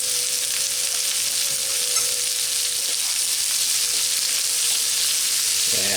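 Butter sizzles in a pan alongside peppers and onions being browned, a steady, loud frying hiss throughout with occasional stirring scrapes and no voices.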